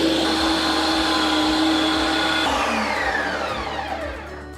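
A Ninja Creami ice cream maker spins and blends frozen yogurt with a loud, steady motor whir and a low rhythmic thumping, the pitch shifting partway through before it winds down slightly at the end.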